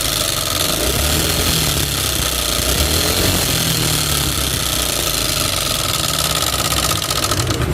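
A Yamaha Aerox scooter engine revving hard with a harsh, continuous metallic rattle and knocking clatter, loud and close throughout.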